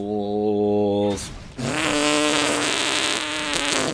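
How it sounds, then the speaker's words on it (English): Comedic fart sound effect from the co-op video game Remnant: From the Ashes: a buzzing tone, a brief pause, then a longer, loud, rasping blat with wavering pitch. "You get a fart sound."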